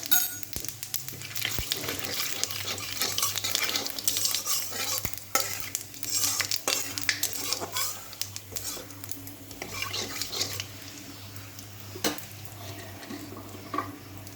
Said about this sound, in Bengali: মাছ ভাজা তেলের মধ্যে আমি ফোড়ন দিয়ে দেবো আপনি এখানে গোটা জিরে আর গোটা গরম মশলা